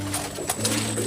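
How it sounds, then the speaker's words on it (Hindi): Firozpuri pigeon giving a soft, low coo at close range, a brief murmuring call over steady background noise. "ये देखिए जी, प्योर फिरोजपुरी कबूतर है।"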